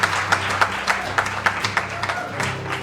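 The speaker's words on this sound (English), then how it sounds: "So a big round of applause for yourselves for being part of this event." An event audience applauds with loose, rhythmic clapping, individual claps standing out over a soft crowd murmur.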